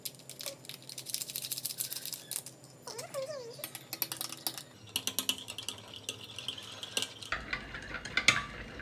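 Drink powder being stirred into plain water, with a spoon clinking and scraping against the glass in quick bursts that return several times, close and fairly clear, with no talking.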